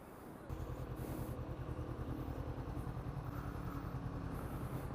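A small motorized bicycle engine buzzes steadily at close range after a brief quiet start, with a fast, even putter and no change in pitch throughout.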